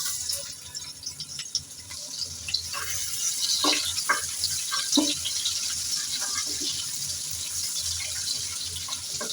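Onion sizzling in hot oil in a wok: a steady, bright crackling hiss with scattered sharper pops, close and fairly loud, with no talking.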